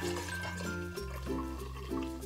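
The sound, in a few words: blue colored water poured into a glass container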